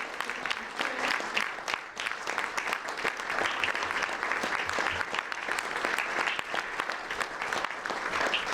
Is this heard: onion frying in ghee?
no